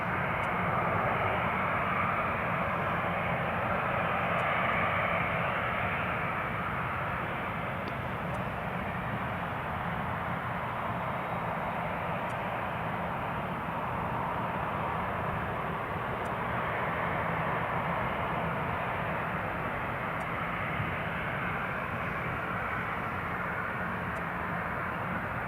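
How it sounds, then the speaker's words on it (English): An easyJet airliner at Newcastle Airport pushes back and starts its engines, heard as a steady, fairly distant roaring whine that swells slightly and holds for the whole stretch. "EasyJet on stand number 4 has just been clear for push and start."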